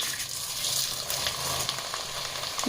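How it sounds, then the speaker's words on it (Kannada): Flattened rice (poha) fries in hot oil with a continuous dense, hissing sizzle, close and even throughout, with no voices. "ಎಣ್ಣೆ ಕಾದಿದೆ ಎಣ್ಣೆಗೆ ಒಂದು ಅವಲಕ್ಕಿ ಆಗಿ ಹಾಕಿದ ತಕ್ಷಣ ಮೇಲಕ್ಕೆ ಬರಬೇಕು"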